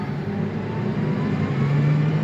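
A tractor engine runs with the PTO engaged during wheat straw baling, a loud steady mechanical drone that rises slightly in pitch as the revs come up, with no talking.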